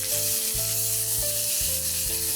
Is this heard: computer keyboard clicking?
no